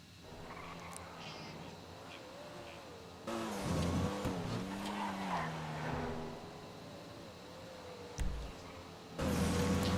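Comet Retro Custom race car in a Grand Theft Auto racing series, engine droning steadily with pitch shifts through gear changes, growing louder and harsher mid-run with brief tire scrub, under faint background commentary.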